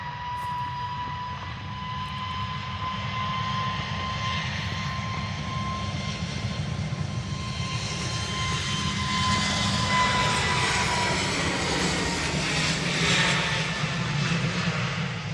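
An easyJet jet airliner takes off for Antalya from Manchester Airport, its engines a loud, steady roar that builds and swells nearby with a thin whine on top, heard alone without voices.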